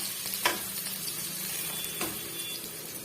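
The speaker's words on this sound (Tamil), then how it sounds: "பாருங்கள் இப்போ இந்த வெங்காயமும் மிளகாயும் நல்லாவே ஒரு அளவுக்கு வதங்கி வந்துடுச்சு" Onion and chili sautéing and being stirred in a pan for a capsicum dish, a steady soft sizzle with a couple of sharper stirring scrapes, close and alone with no talk.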